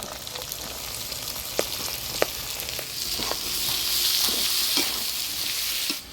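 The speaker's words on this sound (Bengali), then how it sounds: "বেগুন দিয়ে ভালো করে নাড়াচাড়া করে নিলাম" Brinjal pieces frying in hot oil sizzle steadily while a spatula stirs and knocks against the pan several times, close up, with no talking.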